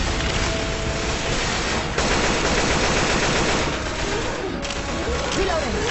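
Sustained rapid gunfire from Left 4 Dead 2, dense automatic bursts filling the whole stretch with a brief break near two seconds, loud and close, with game voices chattering underneath.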